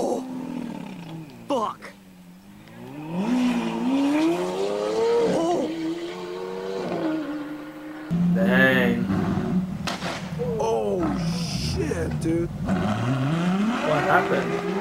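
Supercars race and crash, with engines revving, rising and falling tones that could be squealing tires, and a harsh burst partway through, all mixed under people talking and reacting.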